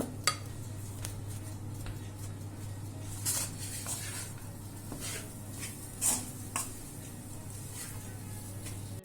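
Cooked rice stirred into brinjal masala in a pan, quiet scraping and clinking of a spoon against metal with a few sharper knocks, faint and close.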